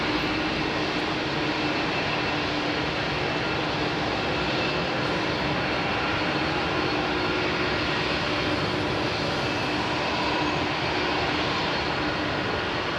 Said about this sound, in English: Those CFMs were